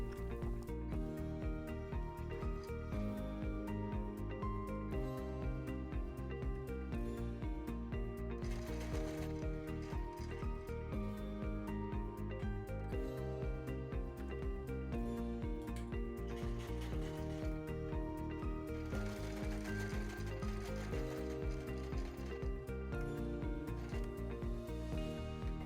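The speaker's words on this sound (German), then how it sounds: "Hast du alles festgesteckt, nähst du einmal außen herum." A sewing machine stitches around the outside of a fabric bottle bag, giving a steady, continuous mechanical whirr with a rapid ratcheting texture throughout, moderately quiet and uninterrupted.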